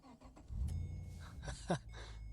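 A Holden VE Commodore SS wagon's V8 engine idles with a deep, throaty rumble, briefly blipping louder before settling back into a steady low growl.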